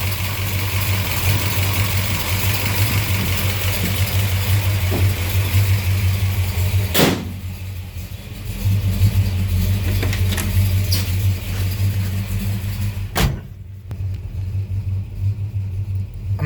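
A 1970 Buick Skylark with a 284-88H cam idles with a steady, lumpy low rumble, close and loud, broken by a couple of sharp knocks and a brief dip in level.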